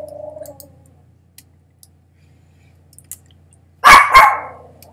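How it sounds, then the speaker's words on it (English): A dog barks twice in a loud, close burst near the end, after a stretch of near silence with faint background hum. "dog, please stop."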